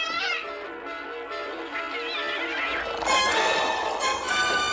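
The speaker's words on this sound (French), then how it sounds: "Le chat a l'air heureux." A cat meows in a video game over a steady musical background, with a couple of bright cries standing out toward the end.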